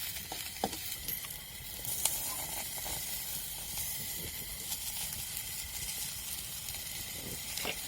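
Onion, garlic and green chilies sizzling as they fry for a mixed eggplant and potato curry, a faint continuous hiss with occasional soft pops, steady and quiet without talk.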